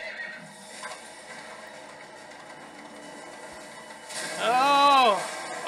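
A horse neighs loudly near the end of a scene from Metal Gear Solid V: The Phantom Pain, a single strong whinny rising over a low game background.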